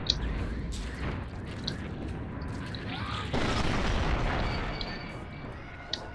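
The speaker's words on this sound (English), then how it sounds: "I just rode that explosion in order to turn around faster" Explosion in the space combat game Space Pirates and Zombies, a booming blast that swells abruptly midway and then rumbles on steadily, with smaller pops before and after, amid continuous game noise.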